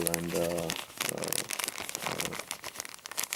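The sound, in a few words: plastic zipper bags being handled from board game box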